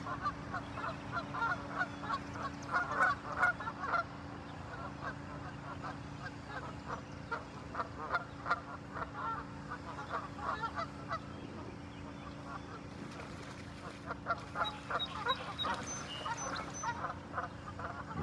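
Several geese, likely with goslings nearby, honk repeatedly at a moderate distance in New England, a busy overlapping chorus of calls over outdoor background noise.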